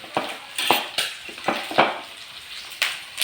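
Pork adobo sizzling in a pan as reserved broth goes in, a steady frying hiss broken by sharp, regular clacks of a utensil stirring against the pan.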